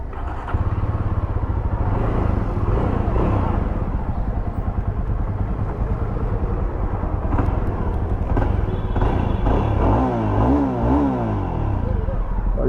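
A Jawa Perak motorcycle, a low-slung bike, rumbles steadily and then revs in uneven bursts near the end, loud and close, with people talking over it.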